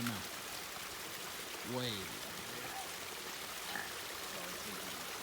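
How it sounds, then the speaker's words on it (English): Spring water runs out of a mountainside along the Appalachian Trail, a continuous close hiss of flowing and trickling water, with a brief voice and a bird chirp heard over it. "the water is just coming right out of the side of the mountain"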